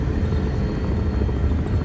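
Steady low helicopter rotor and engine rumble from a landing approach in Medal of Honor (2010), close and continuous without any voices.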